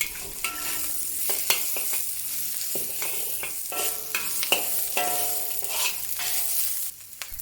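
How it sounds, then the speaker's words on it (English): Onion being stir-fried with minced ginger and garlic in a wok, giving a steady sizzle throughout with repeated scraping and clattering strokes of the spatula against the pan, close and fairly loud, no voices. "Next, add the onion and keep stir frying for another half a minute."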